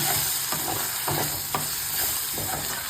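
Garlic paste fries in a pan for a gongura prawn curry, giving a close, steady sizzle broken by several light stirring scrapes.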